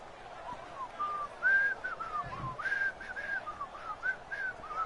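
Someone whistles through a faint, wavering series of short, reedy notes with a stuck quality during a 1962 Green Bay at Minnesota football game replay, the tones breaking and sliding over a quiet background.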